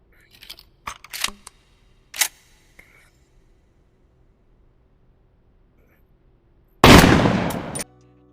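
A shotgun is loaded and fired in the video game Contractors Showdown: a few sharp mechanical clacks of shells and action, a pause, then one loud blast with a decaying tail.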